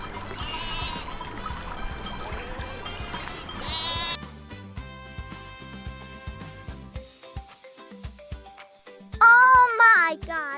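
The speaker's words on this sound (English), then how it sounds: "Look at these goats!" Goats bleat at Antalya Zoo in Turkey, a few wavering calls near the start and again around four seconds, then a loud close bleat near the end, all over background music.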